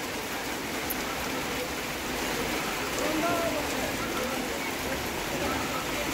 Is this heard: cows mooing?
no